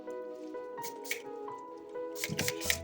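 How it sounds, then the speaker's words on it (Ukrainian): Short hissing spray bursts of alcohol misted over flowers, a couple of quick puffs early on and a cluster of close, fairly soft sprays near the end, with faint handling noise between. "Далі вже орошую спиртом"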